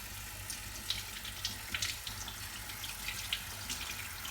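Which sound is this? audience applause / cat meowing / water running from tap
water running from tap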